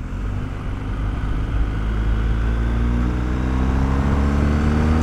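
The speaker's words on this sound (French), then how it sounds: "Avec des accélérations, on sent le brap avec toute la puissance qui arrive." BMW R 1250 GS motorcycle accelerating, a loud, building engine drone that rises steadily in pitch and volume over five seconds, close and continuous with no speech.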